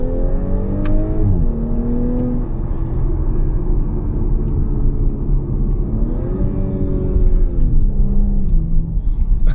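A 2020 Audi S5 Sportback Premium Plus engine pulls hard at full throttle, a loud, steady rumble whose pitch climbs and shifts through gear changes across the whole stretch, with no voices over it.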